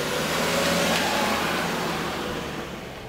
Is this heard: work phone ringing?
no